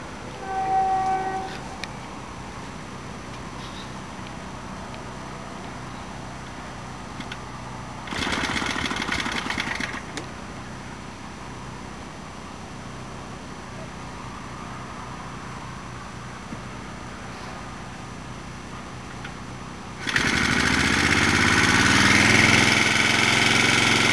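Old stationary engines idling at night at a ploughing festival, a steady mid-pitched chugging that runs throughout, with a brief louder burst partway through and a sharper, louder engine surge near the end.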